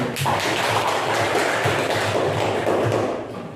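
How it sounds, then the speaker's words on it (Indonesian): Students in an Islamic religious education class applaud together, a dense, even burst of clapping from many hands that holds steady for several seconds and then eases off. "Tepuk tangan buat kita."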